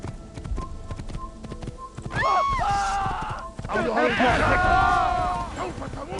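Rapid hoofbeats of a galloping horse in Assassin's Creed with whinnies rising over them, close and loud, mixed with game sounds and a few faint voices.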